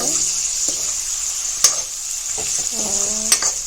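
Meat frying in a pan with a steady soft sizzle, a spoon scraping and stirring with a few sharp clinks against the metal, close and fairly quiet.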